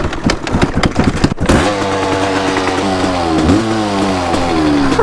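Kawasaki KX500 big-bore two-stroke dirt bike engine, close and loud: a few sharp blips up front, then a sustained high rev with rising and falling pitch sweeps as the throttle is worked.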